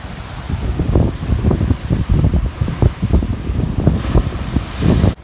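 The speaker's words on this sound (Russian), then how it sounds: "Вау, какой красивый вид, какие волны!" Wind buffets the microphone on the Aruba coast while ocean waves roll in, producing loud gusty rumbling surges with no talk.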